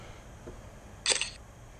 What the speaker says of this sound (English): Fake camera sound effect.